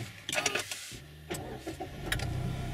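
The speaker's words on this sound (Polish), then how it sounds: "I auto pali." A Mazda car that had been refusing to start, with an Omega alarm blocking the ignition, cranks and catches, its engine turning over in a few sharp bursts before settling into a steady idle nearby.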